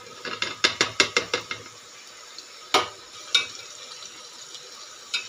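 Green chillies stirred into browning onions in a pan for lauki bharta, a quick burst of rhythmic spoon scrapes and clicks followed by a few scattered strokes over a faint sizzle.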